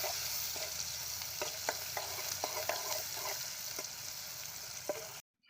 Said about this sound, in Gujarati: અને આ ડુંગળી નાખી દેવાની છે મોળેલી. થોડી વાર આપણે એને હલાવી નાખીશું.